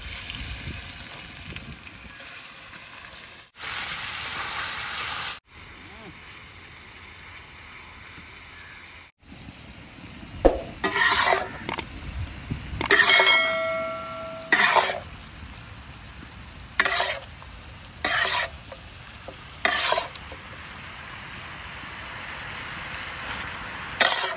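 Marinated chicken goes into a pan of half-cooked onions with ginger and garlic, producing a broad hissing sizzle broken by sharp bursts and clatters as it is moved around.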